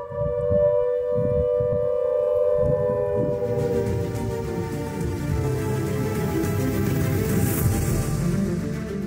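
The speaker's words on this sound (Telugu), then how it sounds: "ఎమర్జెన్సీ ముగిసిందని నిర్ధారించుకున్న తర్వాత ఆల్ క్లియర్ సైరన్ మోగించబడుతుంది." All-clear siren sounding after an emergency at an industrial site, a loud sustained tone holding steady and then slowly gliding, with rain-like patter beneath it.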